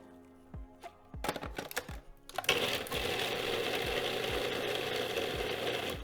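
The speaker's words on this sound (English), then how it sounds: "So in our food processor here, we're gonna put in our red onion." A food processor chops red onion, starting with several sharp clunks and pulses before settling into a loud, continuous whirring grind that runs to the end.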